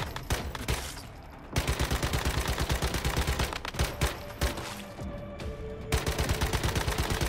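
Guns firing in the shooter game Once Human, loud rapid bursts of automatic fire with short pauses between volleys, close and continuous over several seconds with no talking.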